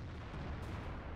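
Tank cannon fire in the World of Tanks video game, with an IS-3 and a Caernarvon in the match, heard as a dense, continuous low rumble of booming shots and blasts with no clear gaps.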